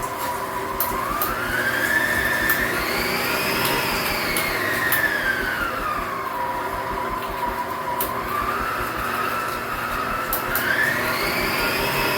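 Electric mixer with a whisk attachment beating cake batter, a steady whirring motor that sweeps up and down in pitch as the speed is raised and lowered, close and continuous with no talking.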